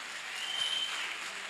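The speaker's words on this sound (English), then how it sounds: "Comrades, can we give the HOD formally a round of applause?" Brief burst of applause from a crowd of teachers at a union principals' seminar, a dense continuous clatter of hands heard alone.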